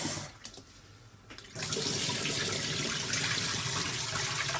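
Tap water gushes steadily as food is rinsed during cooking preparation, a loud continuous splash that starts abruptly after a short quieter stretch of low trickling.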